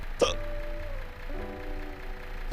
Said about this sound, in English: They're fucking hiccups, man.